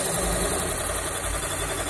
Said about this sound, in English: And then Aaron right here is boring this set of cylinder heads